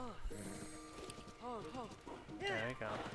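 A horse in the video game Zelda: Tears of the Kingdom, with rhythmic hoofbeat clip-clops and whinnying calls mixed with game sounds, faint and under a talking voice.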